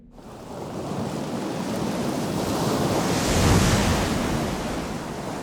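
Baltic Sea waves rolling in under strong wind, a broad continuous rush of surf and gusts buffeting the microphone, swelling gradually to a peak past the midpoint before easing slightly.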